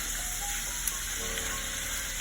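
Chicken fries in hot oil in a frying pan, giving a steady, moderately quiet hiss and sizzle with a few small pops, and no one speaking.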